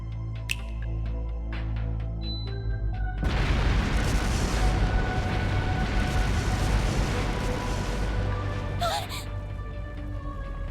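Video game fireworks from Trails Through Daybreak erupt as explosive artifacts go off across a palace. A sudden loud boom gives way to a sustained roaring rumble with a short sharp vocal sound near the end.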